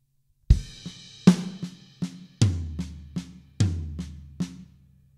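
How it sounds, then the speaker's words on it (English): Slowly played drum fill on a kit: right-hand crash accents ring out in an uneven pattern of about six strikes, while quiet left-hand snare ghost notes fill the gaps, heard up close with no voices. "You got your right hand on the crash and your left hand on the snare."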